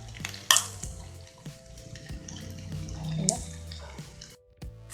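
Chickpeas frying with grated coconut in a pan, with soft sizzling and stirring clatter, scattered scrapes and a few sharp clinks, close and fairly quiet.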